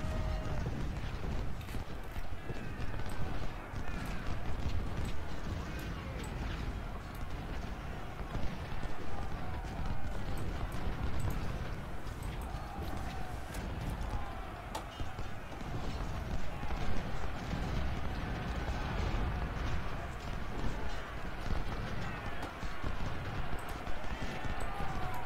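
Horses gallop in Ultimate General: Civil War, a dense, steady patter of many hooves with clattering mechanisms, sustained for the whole stretch, with a voice talking over it.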